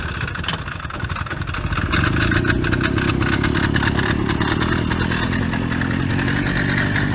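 A 1961 Harley-Davidson Topper scooter engine sputters through a rough start, then catches and settles into a loud, steady, close running putter.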